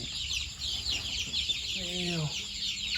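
Chicks and chickens cluck near an egg incubator on a farm, a brief clear cluck and calls rising over a steady background hiss, close by and moderately loud.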